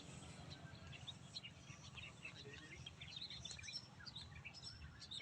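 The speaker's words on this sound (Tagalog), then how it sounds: "Ibon lang naririnig ko ah" Birds chirp faintly in an open onion field in Nueva Ecija, scattered high tweets over a low, steady outdoor rumble, distant and quiet.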